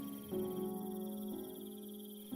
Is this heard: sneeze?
no